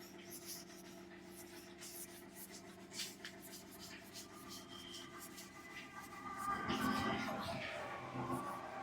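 Chalk or marker writing on a board during a chemistry lesson, soft scratchy strokes in quick irregular bursts, faint and close, growing busier toward the end with no speech over it.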